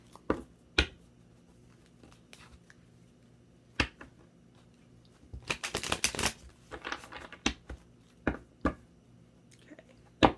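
Tarot cards shuffled by hand at close range: scattered sharp card snaps and taps, with a dense riffling burst around the middle, and no talking.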